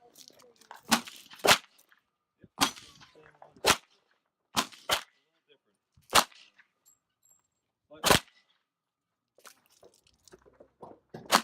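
A North American Arms mini revolver fires about nine sharp, close shots at irregular intervals, with quiet handling noises between reports.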